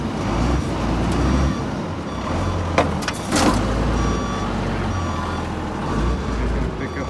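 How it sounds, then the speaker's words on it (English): A Komatsu WA180 wheel loader rolls forward to pick up a bucket, giving a continuous low diesel rumble with brief clanks and a hiss midway, heard close by. "I'm just gonna pick up this bucket right here."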